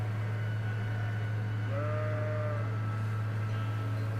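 A sheep bleats once in the video game Trails of Cold Steel, a short wavering call over a loud steady low hum.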